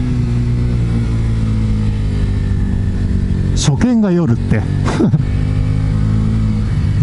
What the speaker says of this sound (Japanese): うわタイヤの音もすげえね。